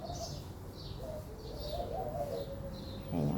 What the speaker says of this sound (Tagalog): Yung kalapate.